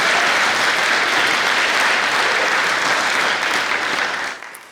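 Audience applause at a Special Olympics Canada awards night, a dense, steady wash of clapping that carries for about four seconds and then tapers off quickly.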